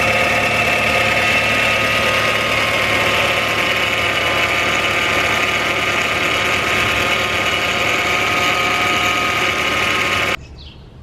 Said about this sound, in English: it's filled with bubbles and the pump is whining